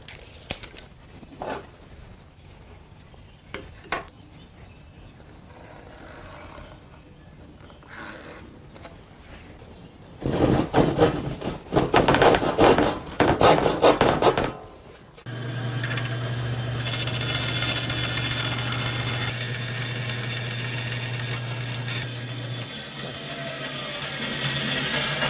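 A wooden board cut to length for a trestle table leg in a woodworking shop: quiet handling noises, then a loud rough burst of cutting, followed by a steady whining power-tool drone lasting several seconds.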